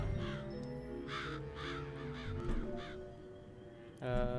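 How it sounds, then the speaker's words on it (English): Crows caw repeatedly in the video game Psychonauts, a series of harsh, rhythmic calls over a steady ambient game backdrop, ending with a sharper tonal burst. "Can I get the crows to do anything here?"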